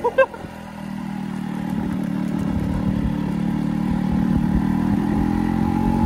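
A motorcycle on its first ride, moving slowly: after a few brief knocks, a steady mid-pitched engine hum with clattery texture runs at an even low speed, close to the mic.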